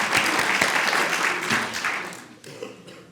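Applause from an audience at a talk by Washington's state insurance commissioner, a warm swell of clapping that starts strong, fades gradually and thins out to a few scattered claps within about three seconds.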